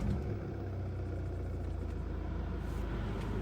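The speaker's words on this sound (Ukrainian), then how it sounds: "Зараз заведу автомобіль, покажу, як воно працює" A Volvo V40 D2 engine starts and runs with a low, steady rumble close by, a continuous idle with no voices.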